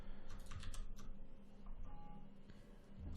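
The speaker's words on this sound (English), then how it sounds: "Keyboard I'm using is a Dust Keyboard 4 Ultimate Edition." Keys clattering on a Das Keyboard 4 Ultimate with blank, unlabeled keycaps, quick light taps in a short burst over a low steady hum, fairly faint.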